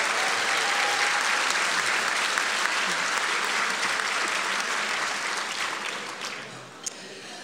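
Dense, steady round of applause from a banquet audience at a thriller writers' awards dinner, loud and continuous throughout before gradually thinning toward the end.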